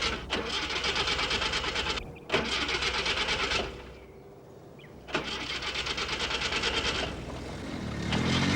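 A car's starter cranks in three rapid, pulsing bursts with short pauses between, and the engine never catches; close and fairly loud.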